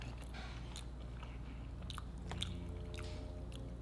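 Someone biting into and chewing a spaghetti and cheese stuffed garlic roll, soft close-up crunches and moist chewing in a quiet room, faint and intimate.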